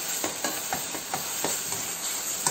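Half-steamed aviyal vegetables stirred in a pot, with quick, regular scraping strokes of a spoon about every quarter second over a constant steamy hiss. Nobody talks.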